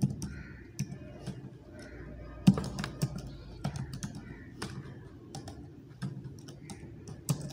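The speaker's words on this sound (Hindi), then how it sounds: "चलिए थोड़ा बहुत टाइप करते हैं ताकि आपको पता चले कि किस तरह टाइप किया जा सकता है।" Close, quiet typing on a computer keyboard while entering Urdu text in InPage, with irregular clicks and occasional heavier keystrokes over soft room noise.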